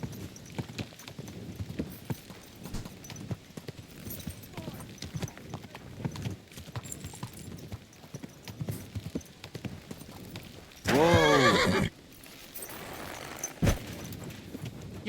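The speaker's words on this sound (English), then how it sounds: "Stop that horse?" Horse hooves clip-clop at a walk beneath game dialogue in Kingdom Come Deliverance 2, with a loud, brief horse neigh or whinny rising about two thirds of the way through before the steady ambience returns.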